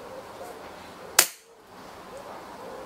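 A single sharp, loud crack from an unsuppressed PP700W .22 caliber airgun, a brief report that fades quickly into quiet background.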